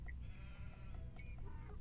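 A few short, faint sheep bleats from the video game Age of Empires II rise over a low, steady game background.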